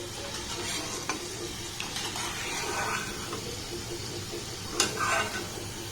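Semolina gulab jamun balls deep-frying in oil give a steady close sizzle throughout, with a few soft clinks and scraping touches along the way and one brighter burst near the end.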